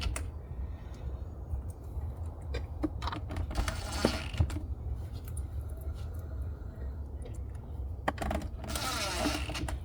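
Metal bolts rattle and ratchet as they are fitted and tightened on a 2003 Cadillac Escalade EXT seat, with irregular clicks and clanks over a low rumbling background, close by.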